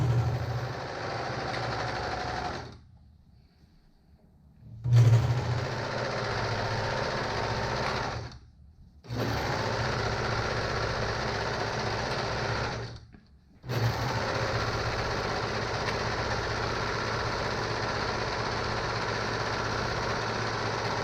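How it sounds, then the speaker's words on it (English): A serger sews a jacket waistband in three steady, loud runs of mechanical whirring, separated by brief pauses when the machine stops. "now I'll take it to the serger and just sew it together, following the same half an inch"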